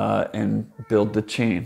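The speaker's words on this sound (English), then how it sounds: "You can hear my cat in the background." A pet cat meows in the background, its cries mixed in under a person's steady, close talking throughout.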